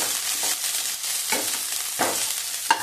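Onion sautéing in oil until golden, a soft continuous sizzle broken by three or four stirring scrapes at regular intervals, close and moderate in level, no speech.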